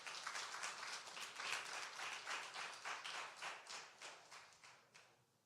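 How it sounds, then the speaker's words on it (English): Audience applause for a reverend arriving to give the invocation at a city financial report event, a fairly faint patter of clapping hands that swells early, then gradually thins and fades away. "Give him a round of applause as he comes."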